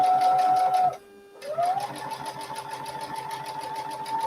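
Domestic sewing machine stitching a quilt block seam, its rapid mechanical whir and needle chatter running close and steady, briefly stopping near the one-second mark before starting up again.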